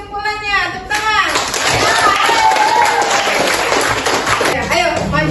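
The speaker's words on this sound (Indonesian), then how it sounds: "Bagus sekali kesimpulannya, tepuk tangan." Schoolchildren applaud in a classroom, a burst of close, lively clapping that starts after a brief spoken line and carries on with scattered voices through the end.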